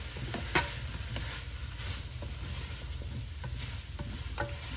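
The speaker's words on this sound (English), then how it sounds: "Give it another stir." Smothered potatoes are stirred in a pot, with a faint steady sizzle and a few light scraping and clinking spoon strokes heard up close with no talking.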